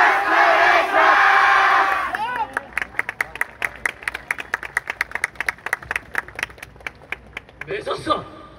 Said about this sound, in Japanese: 手拍子のほどよろしくお願いします